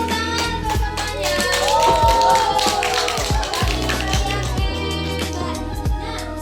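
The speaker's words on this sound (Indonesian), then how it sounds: "Tepuk tangan untuk semuanya." A classroom of students clapping their hands together for all the groups, with uneven overlapping claps of varying loudness ringing over a background of music-like tones.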